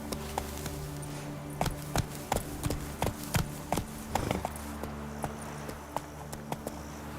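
Hooves of Roach, the horse in The Witcher 3: Blood and Wine video game, clop in an uneven, quick rhythm of sharp, close hits over a low ambient drone.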